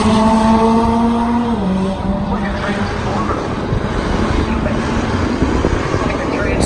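A McLaren MP4-12C roaring down a drag strip, a loud engine drone whose pitch rises and then dissolves into a broad, rushing roar that fades as the car pulls away.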